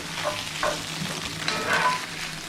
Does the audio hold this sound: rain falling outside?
no